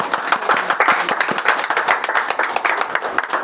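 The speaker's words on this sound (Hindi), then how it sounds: "इस बात के लिए जोर से प्रभु का ताली बजा के धन्यवाद कीजिए।" Congregation at a Sunday prayer meeting clapping loudly in thanks, a dense, fast, steady patter of many hands filling the hall with no voices over it.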